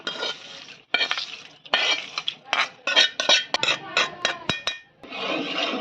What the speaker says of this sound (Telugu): దీన్ని పచ్చట్లో వేసుకుని కలుపుకున్నాం